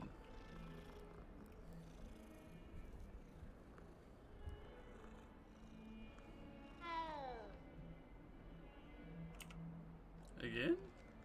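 A pet cat meows a couple of times, drawn-out and wavering, over a steady low purr-like hum while a person talks nearby.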